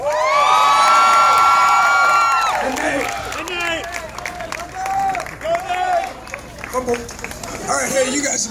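A crowd of troops cheers and applauds for a musician at a USO concert. Loud whoops and shouts rise at the start, then ragged clapping and scattered yells carry on under cheering voices.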